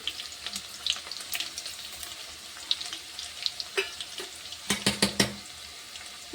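Mustard seeds and cumin sputter in hot oil with garlic for a lemon chutney, making a light sizzle broken by sharp irregular pops and crackles that cluster near the end.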